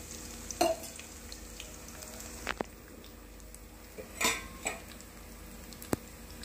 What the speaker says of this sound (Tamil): நல்லா கிளறி கொடுத்துடணும். பூண்டு நல்லா வதங்கட்டும்.